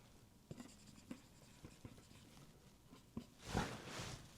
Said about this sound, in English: We draw a line through all this shit so y'all know it's not the same.